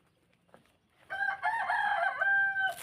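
A rooster crows loudly and close by on a mixed farm orchard, one long drawn-out call after a brief quiet cluck, with faint background sound.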